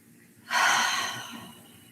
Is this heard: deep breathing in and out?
yes